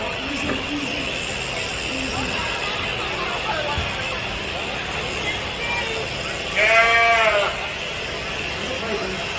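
A single sheep bleats briefly partway through, over a steady background of distant babble and outdoor noise on a Canadian sheep farm during shearing.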